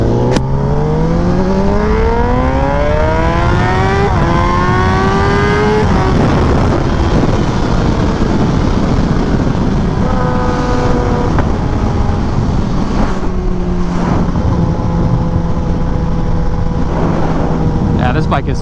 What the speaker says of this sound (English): That was like quarter throttle rolling into it, and the bike was like still coming up a little bit